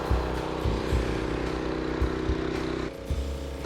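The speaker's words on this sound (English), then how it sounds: "Now it's time to start our engine" A gas-engine pressure washer runs close by with a steady, mid-pitched drone and a faint regular pulse, dipping slightly near the end. No one speaks.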